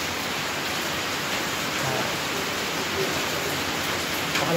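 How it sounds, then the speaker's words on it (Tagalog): Heavy rain pours down as a steady, even hiss that runs unbroken the whole time, fairly soft and with no other sound standing out. "Pakalakas ang ulan, oh."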